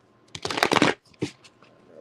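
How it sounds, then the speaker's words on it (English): Tarot cards are shuffled close up: a quick riffling burst followed by a shorter second flutter and a few light taps. "Let me shuffle these up, because I keep seeing the same cards."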